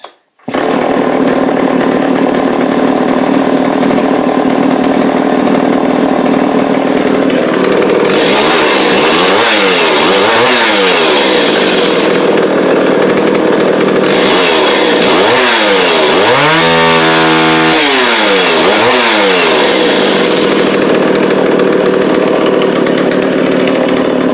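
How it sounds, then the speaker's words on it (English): A Homelite 2100S chainsaw starts and runs loud and close with no talk, its engine droning steadily and revving up and down in several repeated bursts. "So let's see if she'll start."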